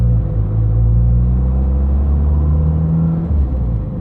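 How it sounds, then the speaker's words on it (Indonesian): Modified Honda Jazz GE8 with a turbocharged engine, running loud and steady close by, a deep continuous rumble and whir with a slight dip near the end, no talk over it. "Itu udah nyala tuh turbonya tuh ya?"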